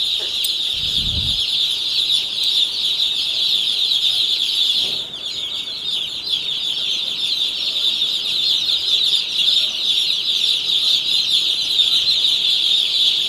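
Chickens let loose inside a farm shed among newly arrived chicks, a steady high chorus of peeping and clucking that carries on throughout, with a brief low thump near the start and no talking.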